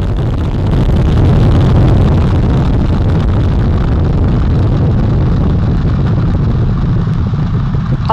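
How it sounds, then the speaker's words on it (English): NASA's Artemis I moon rocket lifts off on four RS-25 core stage engines and two solid rocket boosters, a loud, continuous broadband roar with heavy low rumble and wind-like buffeting, steady throughout. "All four RS-25 engines on the core stage and two solid rocket boosters now propelling the vehicle at 128 miles per hour."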